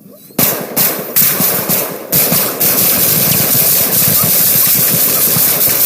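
Gunfire in a police SWAT standoff bursts out loud and close, with several rapid volleys of shots followed by a sustained, harsh roar of noise.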